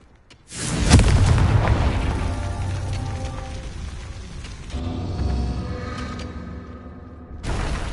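A Confringo spell explosion in a Harry Potter video game bursts with a deep, loud boom, rolls into a long rumbling tail, and a second blast swells near the end.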